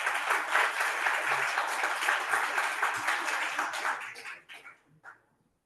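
A community meeting audience claps for project leads, a dense burst of applause that holds steady for about four seconds, then thins to a few scattered last claps and stops.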